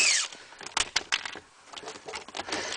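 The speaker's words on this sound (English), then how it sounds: "With the dash flipped down, I'm going to remove two 7mm screws" Two 7mm screws are removed from under the dashboard of a 2014–2015 Ford Fusion, with close, irregular clicking and ratcheting taps from a hand tool in short bursts.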